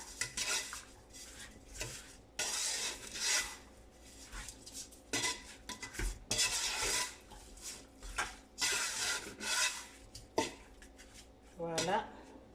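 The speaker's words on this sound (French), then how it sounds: "Je vais juste mélanger ça ensemble." A spoon stirs shrimp noodles and green vegetables in a cooking pot, giving repeated scraping and clinking strokes in irregular bursts, fairly close and moderately loud, with short pauses between strokes.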